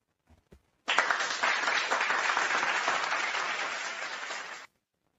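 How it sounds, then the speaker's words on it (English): Canned applause sound effect fired from a pre-programmed button on a Maono Caster audio mixer, a dense crowd clapping burst that starts abruptly, holds steady for almost four seconds and cuts off cleanly, preceded by two faint clicks. "there's something called applause. Let me just put that on for you."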